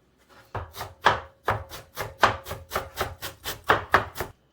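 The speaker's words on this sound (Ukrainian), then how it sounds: "Так, хвостики ми видаляємо і дрібнемо." Eggplant stems and fresh herbs chopped with a knife on a board, a regular series of about a dozen firm, close thuds that grow steadier and louder after a few light starting taps.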